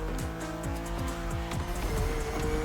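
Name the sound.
BMW car driving and scuffing in video game The Crew Motorfest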